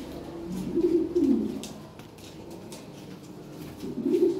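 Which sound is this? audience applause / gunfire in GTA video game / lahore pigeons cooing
lahore pigeons cooing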